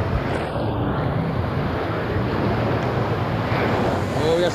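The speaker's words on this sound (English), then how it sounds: "those waves are kind of weak" Waves and rushing water on the TeAwa Fearless River ride at Volcano Bay water park, a steady broadband wash with wind noise on the mic close up throughout the whole stretch.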